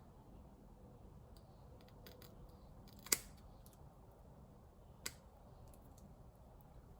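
Scissors trim the skirt of a fishing jig in two crisp, isolated snips a couple of seconds apart, close and quiet against a soft, even room hiss.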